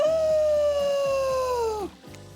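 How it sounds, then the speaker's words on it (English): A wolf howl from the video game Hooked On You: one long, loud, sustained wail that holds a steady pitch and then slides down and breaks off, with some layered howling underneath. "We look into each other's eyes, then back at the wolves, and together we all howl."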